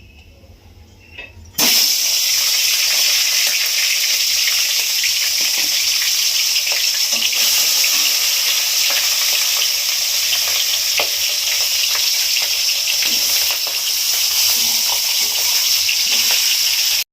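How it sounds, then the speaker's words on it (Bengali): Katla fish head fries in hot oil in a kadai, giving a loud, continuous sizzle that starts abruptly after a quiet moment and carries on steadily with faint crackles and no talk. "মাছের মাথাটা ভেজে নিচ্ছি, কাতলা মাছের মাথা"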